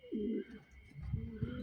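White pigeons in a small farm coop, soft close coos in a short, throaty series of repeated low notes, with faint background chirps and no talk over them.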